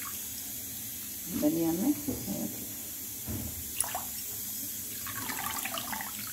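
Saag leaves are rinsed under running water, a soft steady trickle and splash from a tap with handling of wet greens, while a person talks briefly over it.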